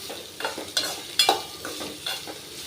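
Curry leaves, coriander and grated coconut sautéing lightly in a pan for aval kozukattai, a soft steady sizzle broken by a few sharp scraping stirs, close and moderately loud, with no voices.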